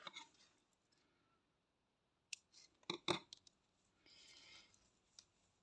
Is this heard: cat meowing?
no